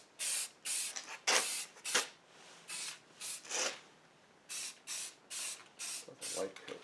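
Short, close bursts of spray paint hiss onto the cabinet of a 1961 Philips B5X04A radio, using paint at least a year old, in an uneven series of about a dozen quick sprays with pauses between.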